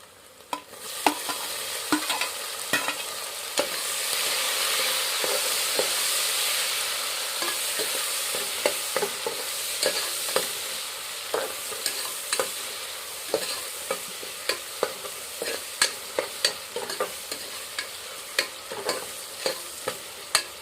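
Browned onions and freshly added tomato fry for a home-style chicken curry, a steady sizzle broken by frequent sharp scrapes and taps of a spoon stirring the pan, close and without talk.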